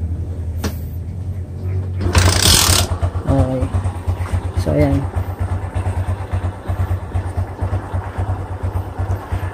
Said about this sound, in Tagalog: papadyan lang natin yung motor. Start ko muna to.